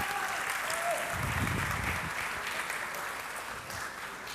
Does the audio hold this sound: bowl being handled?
no